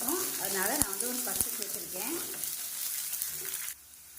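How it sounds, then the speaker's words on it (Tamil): Chana dal sizzles and crackles steadily in a hot pan with occasional scraping stirs, loud and close, with faint voices mixed in. "கடலைப்பருப்பு நல்லா வறுபட ஆரம்பிச்சிருச்சு"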